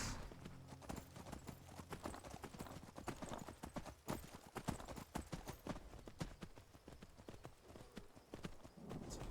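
Quick, rhythmic horse hoofbeats in the video game Skyrim Special Edition clatter continuously at a brisk gallop, close and fairly quiet, with no talking.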